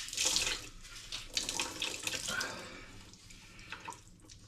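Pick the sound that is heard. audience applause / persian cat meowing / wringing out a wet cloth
wringing out a wet cloth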